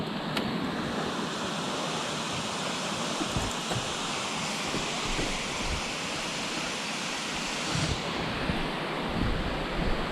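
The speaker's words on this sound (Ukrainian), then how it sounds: "Так, це є Джуринський водоспад" Water of the Dzhuryn waterfall in the Dniester canyon, heard from the top as a steady, loud broadband roar that fills the whole stretch without letup.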